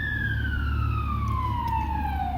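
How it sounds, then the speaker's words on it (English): A fire truck siren wails steadily with a slowly falling pitch, loud over a low rumble of engine and traffic noise. "And we got a siren from a fire truck."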